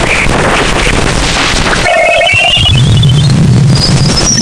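Eerie space recording attributed to Voyager 2 passing Jupiter's moon Ganymede: a dense, noisy hiss shifting into wavering whistles and low warbling tones, steady and loud throughout with no voices.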